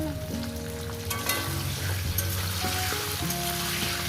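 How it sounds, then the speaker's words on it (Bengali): Pumpkin, potato and pointed gourd fry in a pan with salt and turmeric, giving a steady close sizzle with occasional stirring scrapes throughout, no talking. "এখন এটা আমি মিনিট পাঁচ ফ্রাই করে ভাজি যত সুন্দর করে ভাজবেন সবজি ততটাই টেস্টি হবে"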